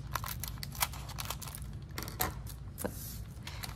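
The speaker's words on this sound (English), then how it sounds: "We are going to just cut off one end and the other end." Scissors snipping through the plastic wrapper of a Model Magic craft-clay package, several sharp close cuts and crinkles at irregular intervals over a low steady room hum.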